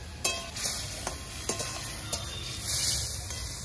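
Spice paste and chopped tomato sautéing in a pan for a broccoli and prawn dish, a continuous close sizzle broken by repeated scraping strokes of a spoon against the pan, with no voices.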